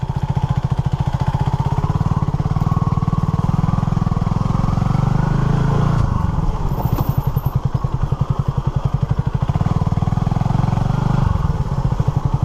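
A Honda CB250RS motorcycle thumps along an off-road green lane, its single-cylinder engine chugging loud and close with steady rhythmic pulses, bumps and clatter, and no talking.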